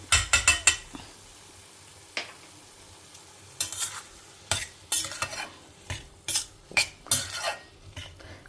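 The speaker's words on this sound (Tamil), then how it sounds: "கொஞ்சம் நேரம் வதங்கட்டும்." Food sautés in a pan with salt and asafoetida, with a soft sizzle underneath and bursts of sharp metal spoon scrapes and clanks against the pan, sporadic at first and then more frequent.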